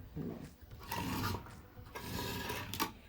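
Knife-sharpening mechanism on a Type Special cloth-cutting machine runs in short rasping, grinding bursts, close and fairly quiet, with brief pauses between strokes.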